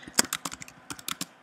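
Someone types text on a computer keyboard in a short, uneven burst of sharp key clicks, close and fairly quiet, with no talk.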